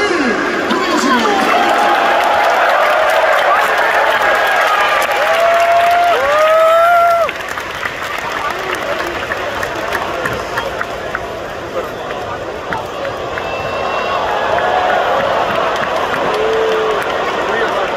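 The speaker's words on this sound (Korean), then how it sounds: "팀 선수들에게 전혀 뜻으로 뜨거운 박수를 보내주십니다." A stadium crowd at a football match between Tottenham and Bayern Munich applauds the players, a loud sustained roar of clapping and cheering, with faint whistle-like tones rising over the broad noise before it eases slightly.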